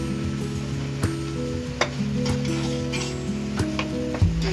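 Salt and a tablespoon of sugar being stirred into a sizzling pan while making a paneer pizza, a steady fry under scattered spoon clicks and scrapes, with musical tones running beneath.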